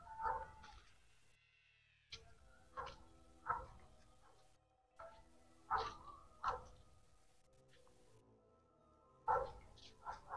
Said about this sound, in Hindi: दोस्तों कुत्ते भौंके जा रहे हैं।